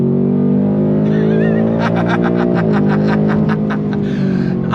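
A 2024 Ford Mustang GT in Grabber Blue accelerating hard under throttle, its automatic transmission holding a rising engine note. The close, loud V8 drone climbs steadily, with a pulsing, crackling rhythm over the roar.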